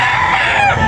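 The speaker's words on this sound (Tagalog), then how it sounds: "Manok." A rooster crows loudly and close by, one continuous bright call filling the short moment, with no talking.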